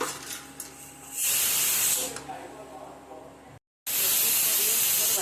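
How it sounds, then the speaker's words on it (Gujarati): A pressure cooker on the stove, gas already switched off, steam hissing out hard for about a second, then a second loud blast after a short gap, close by, with someone speaking in between. "ગેસ બંધ કરી દીધો તોય જો સીટી વાગી"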